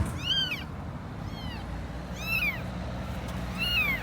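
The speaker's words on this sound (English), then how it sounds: "this is actually a cat" A small cat meows four times, short and rising-falling, fairly close, over a constant low indoor hum.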